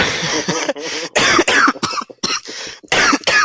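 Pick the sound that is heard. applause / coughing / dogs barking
coughing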